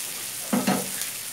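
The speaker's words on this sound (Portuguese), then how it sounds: "tá pulando cebola" Onion frying in a pan sizzles continuously, with two quick pops standing out close together in the middle of the hiss.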